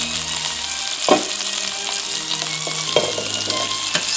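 Italian meatballs searing in a hot pan, a continuous loud sizzle and crackle with a few sharp knocks and turning sounds spaced through, no talking.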